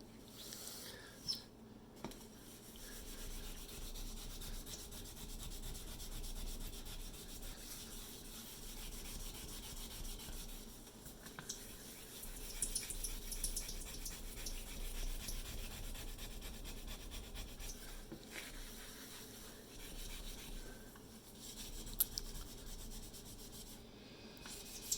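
Cleaning pad with cleaner scrubbed across a glass cooktop to lift built-up grease, giving a faint, continuous rasping rub with small pauses and shifts in pressure.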